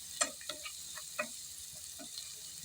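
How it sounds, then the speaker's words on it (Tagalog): Fish fillet fries in a pan, with soft, irregular crackles and pops over a faint steady sizzle, close and quiet. "diyan dyan yung ating piniprito na isda"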